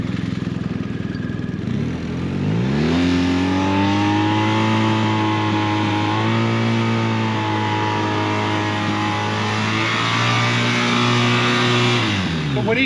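A Coronado police motorcycle's engine revs up and holds steady with slight rises and dips while the rider slips the clutch at low speed, loud and continuous, with someone talking over it.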